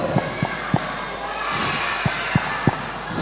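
Children at a Sunday school Christmas celebration clap in unison during a clap game, a handful of sharp, irregularly spaced claps standing out over a steady background of crowd murmur in a hall.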